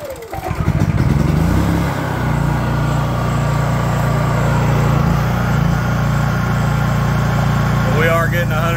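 A Honda EU3000is inverter generator engine pull-starts and settles into a steady, loud, close droning idle that runs on evenly without pause.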